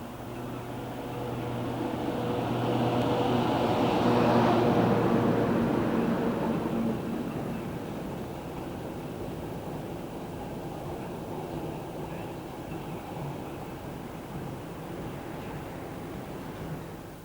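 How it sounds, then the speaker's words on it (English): A Class 92 electric locomotive hauls a car-component freight train past, swelling to a broad rumbling peak with steady rail noise, then easing into a long, fading roll of wagons. "here a 92 works the Dollans Moor to Dagenham car component train"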